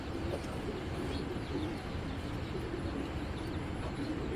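Pigeons, including a large Netherlands-line hen, coo softly amid a dense, steady background rumble, with faint repeated low calls rising now and then from the noise.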